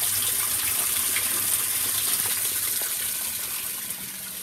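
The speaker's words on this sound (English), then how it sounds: "This is warm water right now." Warm water gushes into the tub of a Whirlpool WTW5300SQ0 top-load washing machine, a loud steady rushing stream close by that eases slightly near the end, with no talking.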